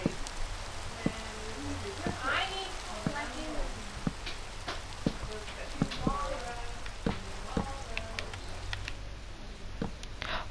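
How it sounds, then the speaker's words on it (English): Rain falls in the Minecraft video game as a soft, continuous patter with scattered drop ticks, fairly quiet and steady throughout. "Finally, the raining stopped."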